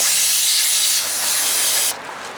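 An aerosol can sprays cleaner onto the rear brake parts of a 2015 Mazda3 in a close, loud hiss for about two seconds, then cuts off sharply.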